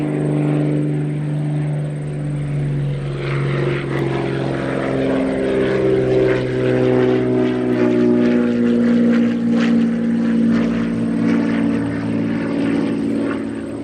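Steady droning propeller airplane in flight across a stormy North Atlantic, a continuous loud engine hum with layered tones and no talk.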